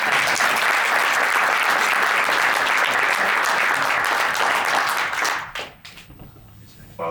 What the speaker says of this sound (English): And one more round of applause for everyone who has come here today.